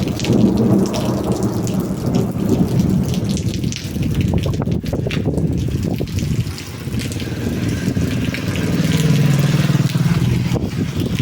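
Heavy rain pours continuously while deep thunder rumbles and cracks through the downpour, loud and close, with no one speaking.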